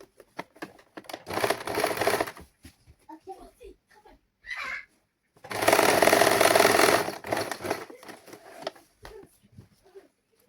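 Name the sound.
sewing machine stitching lining and saree fabric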